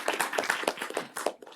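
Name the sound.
audience applause welcoming the seminar speaker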